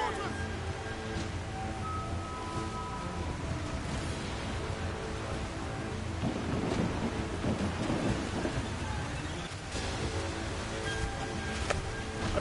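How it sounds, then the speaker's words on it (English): A storm at sea in the pirate video game Assassin's Creed 4: Black Flag brings steady heavy rain and deep rumbling thunder, with surging wind and sea noise that swell midway, continuous and loud. "Of course the ship has to be in a storm"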